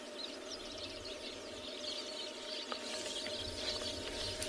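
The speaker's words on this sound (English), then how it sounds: "listening to all the birds calling as well" Weaver birds busy at their nests during a sunset safari chatter and chirp in a dense, continuous mix of small calls, moderately near, with a steady ambient hum beneath and no talking.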